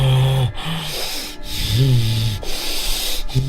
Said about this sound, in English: breathing loudly.